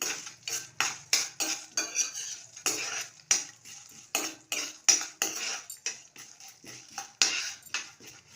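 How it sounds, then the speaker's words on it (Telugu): A metal spoon stirs and scrapes in a pan as lentils go into a hot tempering for upma, giving rapid, regular clinks and scrapes close by with a faint sizzle underneath. "ఉప్మాకి పోపు ఇష్టపడతారు కదా కొంచెం, అందుకని పప్పులు వేస్తున్నాను కదా."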